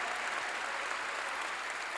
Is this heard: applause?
yes